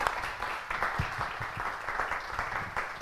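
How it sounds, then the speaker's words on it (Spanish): Audience applause after a talk at a corporate AI event, a continuous, moderately loud patter of many hands clapping with a few distinct sharper claps, no speech over it. "yo creo que un aplauso, ¿no?, que se merece"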